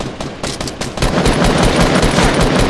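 Dense automatic gunfire from a Fortnite match, rapid bursts of shots that become continuous and loud after the first second, with no talk over it.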